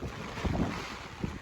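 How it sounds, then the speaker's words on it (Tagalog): Strong wind from Typhoon Kristine under Signal No. 1 in Quezon Province, roaring as broad, gusting noise buffeting the microphone, loud and steady with brief surges. "Sobrang lakas na ng hangin."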